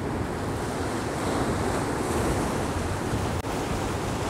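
Ocean waves wash in at the shore under stormy weather, a loud rushing surge of surf with wind buffeting the microphone, continuous and close with one brief dropout near the end.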